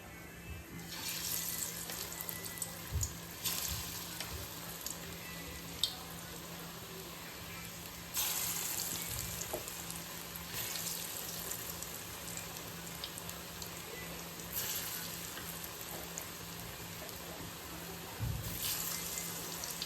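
Onion and potato pakoras crackle and hiss in hot oil as a steady, close sizzle with occasional louder bursts and pops, running continuously with no talk.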